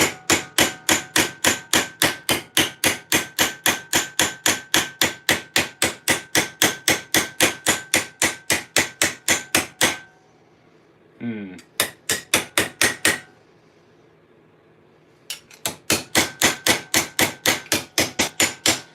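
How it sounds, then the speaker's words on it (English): Rapid, evenly spaced blows of a flat hammer on a steel half gauntlet plate, loud and ringing, with two brief pauses between the runs of strikes. "Just going to fix it with a flat hammer."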